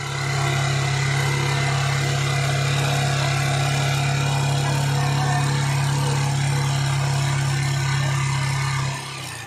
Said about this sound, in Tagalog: kung maririnig nyo, mataas yung idle nya